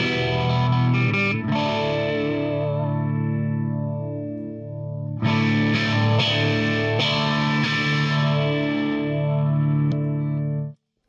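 An electric guitar plays through a phaser effect on a Wangs Mini 5-watt hand-soldered tweed amp, with sustained chords and notes swirling in a sweeping, whooshing modulation and a brief gap in the middle.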